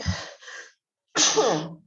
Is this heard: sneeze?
yes